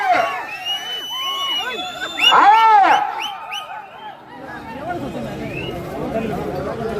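A crowd shouts and cheers in a noisy burst, with a loud swell of excited voices in the middle before settling into general chatter.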